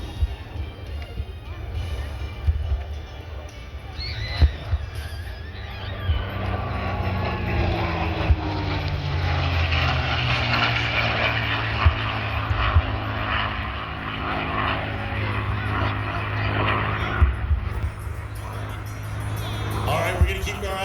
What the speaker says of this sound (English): This Mustang, as he circles around and makes his way up to the top.